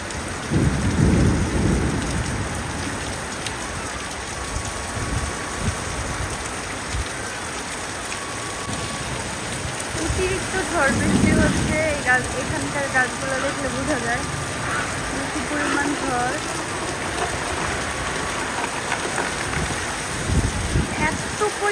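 Heavy rain pours steadily over a garden house yard while deep thunder rumbles in several rolling bursts, loud and continuous, with a voice speaking faintly underneath.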